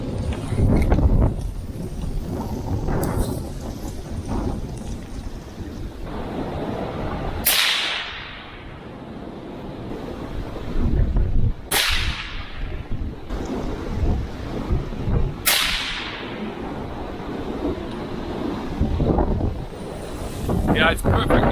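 A Remington 700 in .223 fitted with a Banish 30 suppressor fires three sharp, evenly spaced shots outdoors, heard over heavy wind buffeting the microphone.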